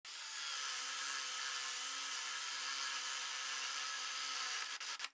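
A drill bores a hinge hole through a metal jig into a furniture panel, giving a steady, even whirring drone that runs without a break and cuts off abruptly at the end.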